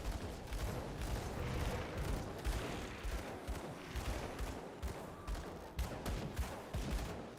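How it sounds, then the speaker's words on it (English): Rapid, dense gunfire in the action RPG Grim Dawn, shots rattling in quick overlapping bursts through the whole stretch, loud and continuous with a slight pulsing rhythm. "Let me keep shooting people, Kyle."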